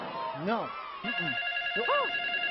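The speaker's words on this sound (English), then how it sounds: "That's a phone call from the meal or no meal baker." A telephone rings in warbling double bursts, fairly clear, while a voice briefly answers over it.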